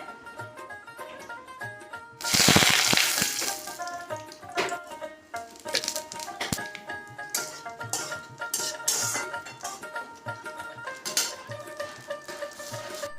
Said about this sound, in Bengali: তেলের মধ্যে জিরে আর তেজপাতা ফোড়ন দিয়েছিলাম